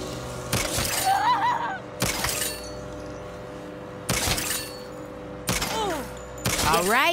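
Transparent barrier in Saints Row shattering under gunfire: four sharp, loud bursts of breaking glass with brief gunshot cracks, spaced a couple of seconds apart, each trailing into ringing debris over a steady low hum.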